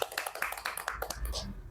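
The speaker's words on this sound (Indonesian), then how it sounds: "Tepuk tangan dong." Hand clapping from a school group at an elementary school, a scattered patter of many claps over steady background, fairly faint and brief.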